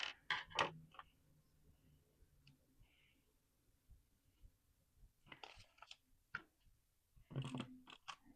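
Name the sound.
cutting a vision board down the center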